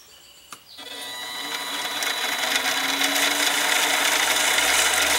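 A mini lathe runs at low speed, its tool forced against a titanium ring, starting with a sharp scrape before the motor rises into a steady whine and grinding rub that grows louder and holds.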